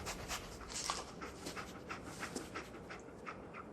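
Dog companion in the video game Fallout 4 panting softly and rhythmically, quick repeated breaths at low volume with no speech.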